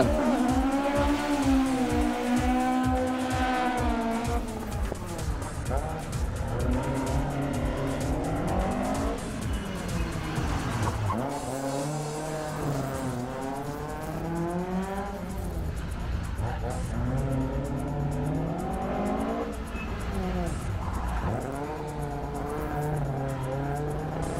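A rally car driven by Martin McCormack sets off on special stage ES8 at Champéry, Rallye du Chablais 2022. Its engine revs hard through rising and falling sweeps as it shifts up through the gears, loud and close throughout.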